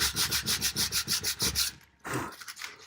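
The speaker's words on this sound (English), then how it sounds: "when you're sanding, with the grain of the wood" Wood furniture sanded by hand with the grain, giving a rapid rhythmic series of close, raspy strokes, then a brief pause before one longer, softer rub.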